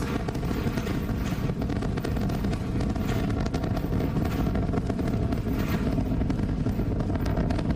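Starship's Super Heavy booster, all 33 Raptor engines lit, roars after launch from Starbase as it arcs away: a dense, continuous, rumbling blast that holds steady and loud throughout, with no voices.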